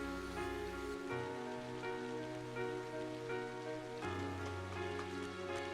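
Rain falling in the video game Trails of Cold Steel, a faint, steady patter softly layered beneath sustained game music whose chords shift a few times.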